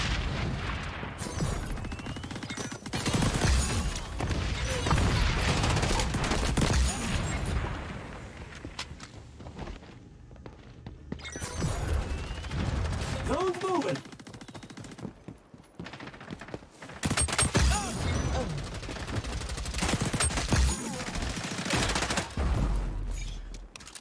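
Rapid pistol and automatic gunfire in the XDefiant first-person shooter, dense bursts of shots and booms packed together with brief lulls, loud and close throughout.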